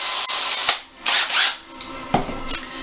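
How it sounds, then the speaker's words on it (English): Power drill fitted with a roughly 13/64 bit boring a hole in the center of a workpiece, giving short bursts of whirring and grinding separated by sharp clicks and pauses, close and fairly loud. "I'm going to bore a hole in the center here"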